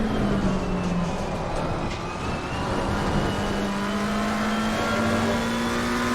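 Race car engine in Assetto Corsa Competizione at Donington, a steady droning tone lifting slightly early and coasting to save fuel, with pitch dipping then climbing again, continuous and moderately loud with no talk.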